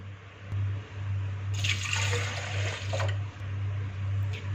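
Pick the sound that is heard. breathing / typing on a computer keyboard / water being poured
water being poured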